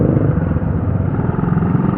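Rusi 150x enduro-style motorcycle fitted with a spouted exhaust, its engine running with a rough, rapid low-pitched putter, loud and close, steady for two seconds with no talk.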